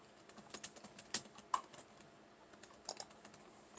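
Light tapping on a computer keyboard during a Zoom biology class, with a quiet, irregular run of soft keystroke clicks close to the microphone and no voices.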